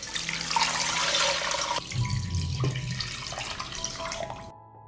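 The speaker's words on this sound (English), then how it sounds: "I pour water to cover the meat." Tap water runs and splashes into a saucepan over meat, a bright rushing pour that shifts to a deeper filling gurgle, then stops abruptly.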